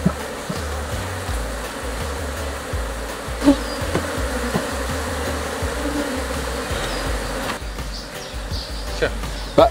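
Honeybees hum steadily at an open hive being inspected in an apiary, a dense continuous buzz with individual bees passing near, while people talk quietly over it.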